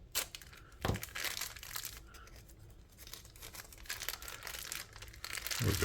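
An oily plastic bag from a TWOSUN TS16 G10 D2 knife is handled and crinkled up close, a steady rustling crackle with a few sharper crunches, no talk over it.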